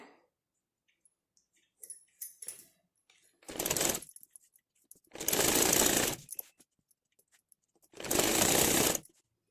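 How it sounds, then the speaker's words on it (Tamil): A sewing machine stitching the lined back piece of a blouse, three separate bursts of rapid mechanical whirring, each lasting about a second or less, with quiet handling clicks between them. "பார்த்துட்டே நீங்கள் ஸ்டிச் பண்ணுங்கள்"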